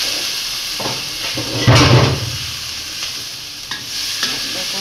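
Vegetable curry is tipped into a pan of fried prawns, bringing a loud burst of sizzling followed by steady frying hiss and scraping stirs close up.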